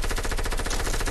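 Rapid automatic fire from an AR rifle with a scope in a battle royale video game, a fast even burst of loud close shots lasting about a second, with no talking.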